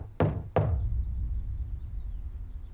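Two firm knocks on a door, close and distinct, about a third of a second apart, followed by quiet room tone.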